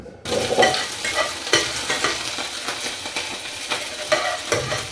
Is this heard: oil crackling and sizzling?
yes